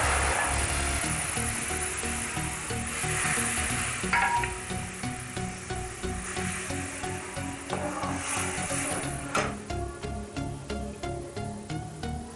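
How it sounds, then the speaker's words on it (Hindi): Cumin seeds crackle and sizzle in hot oil as garam masala goes in for a mixed vegetable dal, a steady close frying hiss with scattered sharp pops that grow more frequent toward the end. "जीरा चटक चुका है, अब इसमें गरम मसाला पाउडर डाल देंगे।"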